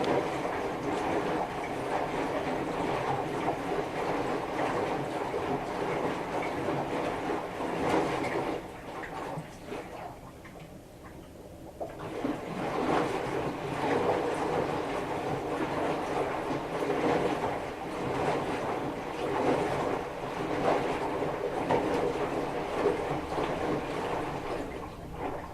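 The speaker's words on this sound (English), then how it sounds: "Just gonna wash for a couple minutes and then rinse and spin and all" A washing machine runs its wash cycle, giving a steady churning drone with faint rhythmic sloshing and clicking that briefly quietens midway before resuming, heard alone at moderate distance.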